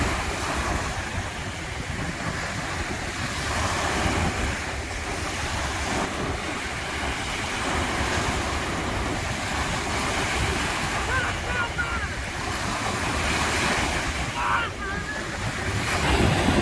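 Waves wash steadily onto the shore at the far north end of Lake Michigan, a broad, continuous surf roar mixed with wind buffeting the microphone, with no clear pauses between breaking waves.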